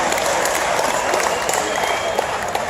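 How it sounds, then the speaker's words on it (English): Audience applause at a Disney-themed AHEPA 95th anniversary party after fireworks, a sustained, dense clapping from a sizable crowd, loud and even throughout. "Give yourselves a round of applause."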